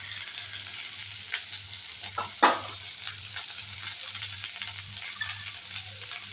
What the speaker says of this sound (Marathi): ही जी भेंडी आहे नुसते मी तेलामध्ये करत आहे पाणी न टाकतात